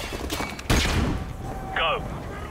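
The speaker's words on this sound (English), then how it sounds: "Flashbang out." A flashbang grenade going off in Call of Duty Modern Warfare: one sudden loud bang with a short rumbling tail amid faint game ambience, followed by a brief high ringing chirp.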